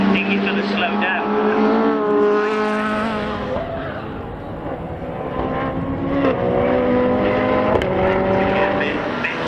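Race cars on the track at Oulton Park, a continuous loud whine of engines with shifting pitch as cars pass and change gear, under an excited commentator.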